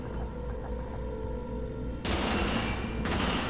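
Gunfire in the video game Tom Clancy's The Division, with sudden dense bursts of suppressive fire cutting in over a steady background hum, a second burst following about a second after the first.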